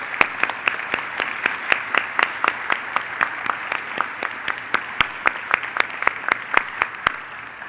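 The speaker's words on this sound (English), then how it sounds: "Can we give them all another hand of applause?" At a National Honor Society induction in Canandaigua, a small audience claps steadily: sharp, distinct handclaps in a quick, fairly even rhythm, moderately quiet and close, fading out near the end.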